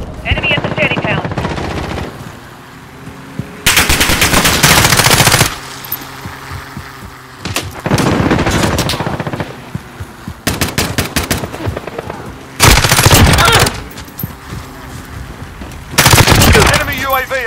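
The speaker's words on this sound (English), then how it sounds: "Friendly sentry gun online." A sentry gun in Call of Duty: Modern Warfare fires in several loud, sustained bursts separated by short pauses, close and dominant, with game voices heard in between.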